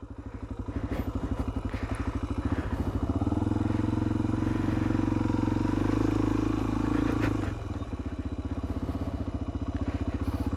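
A Suzuki DR 250R enduro motorcycle engine chugs close by, rising to a louder sustained drone midway before dropping back to a rhythmic idle-like putter.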